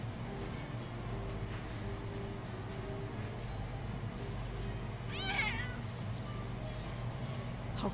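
Cats meow in the video game Yakuza 6, with a clear, close meow in the middle over a steady hum of background game sound and music.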